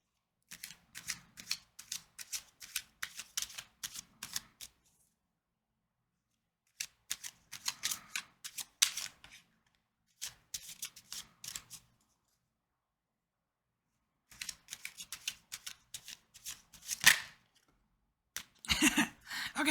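A deck of playing cards is shuffled in several quick riffling bursts, each a dense flutter of snaps lasting a few seconds, with silent pauses between them and a sharper final burst near the end.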